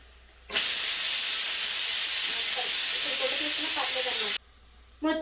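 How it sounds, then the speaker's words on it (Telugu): Dried fish hit hot oil in a pan, setting off a sudden loud, steady hissing sizzle that lasts about four seconds with faint spatters inside, then cuts off abruptly before a brief second burst. "ఎండు చేపలు అయితే ఫ్రై చేస్తాను ఇప్పుడు."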